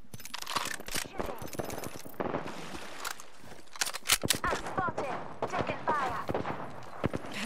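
Gunfire in a battle royale match, rapid cracks and bursts scattered across the moment, fairly close, mixed with voice callouts and other game effects.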